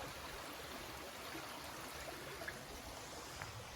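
A freshwater stream flows nearby on a hot hiking day, a soft, even rush and trickle of moving water with no voices, steady throughout.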